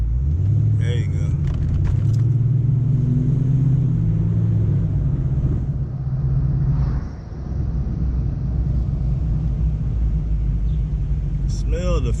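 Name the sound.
1994 Ford Mustang GT 5.0 engine rumbling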